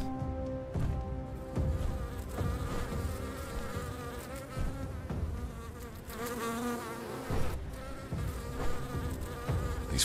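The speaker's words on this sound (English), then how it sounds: "bees feed here and spread the poison to other flowers" Bees in a fantasy video game buzz around poisoned flowers with a continuous, layered insect drone, wavering in pitch as they hover close by, with no talking over it.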